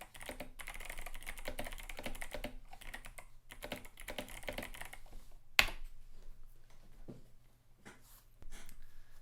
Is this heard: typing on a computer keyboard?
yes